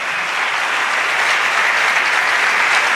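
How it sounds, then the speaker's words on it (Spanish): A church congregation gives a strong round of applause during a sermon, a thick, even wash of clapping that stays loud and continuous throughout. "Vamos a darle ese aplauso fuerte al Señor."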